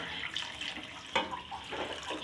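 Water is poured into a cooking pot of chickpea pulao in a home kitchen, making a soft, brief splashing trickle with a small burst partway through. No one speaks.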